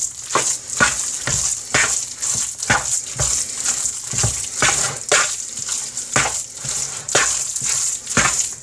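Italian Easter meat pie filling being mixed with eggs in a bowl: steady, rhythmic wet stirring and slapping strokes, a dozen or more in quick succession, close and moderately loud over a faint hiss, with no talk.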